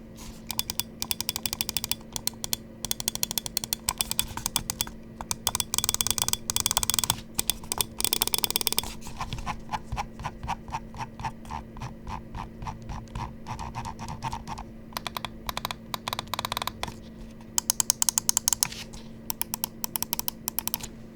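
Button clicks from a Pulsar X2H Crazylight computer mouse, fired in long rapid bursts of sharp, crisp, close ticks with brief pauses between runs.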